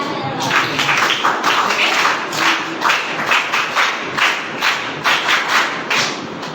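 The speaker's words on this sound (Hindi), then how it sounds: "देखो एक ताली बजाइए।" A group of children claps together at a women's training camp, a dense, steady patter of many hands with rhythmic swells, fairly close and loud throughout.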